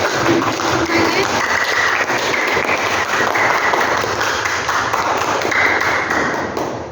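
Students in an Indonesian classroom applaud a classmate, Krisna: loud, continuous clapping from a roomful of hands lasting several seconds, with faint voices mixed in before it tapers slightly at the end.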